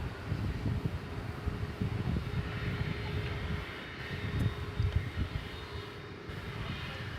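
A UPS MD-11 jet idling and rumbling on the ground before takeoff at DFW Airport at night, a distant low engine roar with a steady faint whine and wind-like fluctuations.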